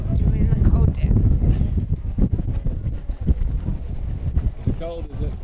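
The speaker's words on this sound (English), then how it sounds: "The wind is chilly." Chilly wind gusts over a boat near the Statue of Liberty and Ellis Island, buffeting the microphone with a low, rough, uneven roar while people talk.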